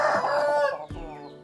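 A breeding hen clucking close by, with a drawn-out throaty call followed by a shorter, sharper cluck after a brief pause.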